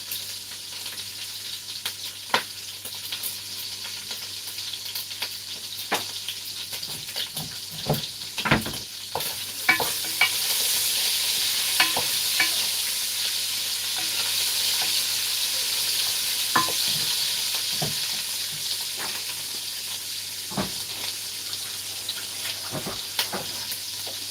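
Gizzard pieces with garlic seasoning fry in a pan, a steady close sizzle running throughout, broken by sharp clicks and scrapes of stirring that grow busier around the middle.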